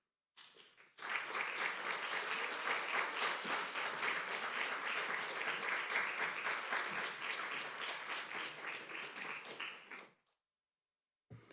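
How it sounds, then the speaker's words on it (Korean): A church congregation at a Wednesday worship service applauds to welcome a preacher, a steady, dense burst of clapping from many hands lasting about nine seconds before stopping abruptly. "박수로 환영해 주시면 좋겠습니다."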